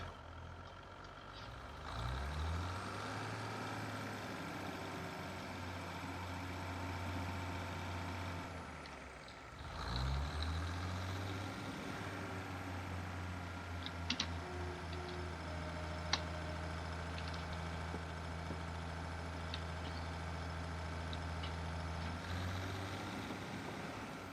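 A Class 156 diesel multiple unit in Train Sim 2020 releases its brakes and powers away from Peterborough: a steady, close diesel drone swells, dips and rises again midway, with occasional sharp clicks and ticks over the engine.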